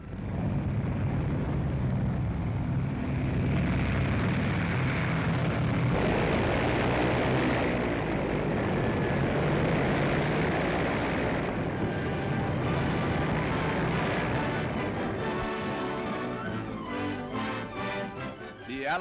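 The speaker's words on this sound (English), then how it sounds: "a fortress limped home with landing gear disabled and made a perfect crash landing" A World War II B-17 Flying Fortress bomber with disabled landing gear comes in for a crash landing, heard as a continuous heavy engine drone with rumbling, roughly recorded noise that fades slightly toward the end.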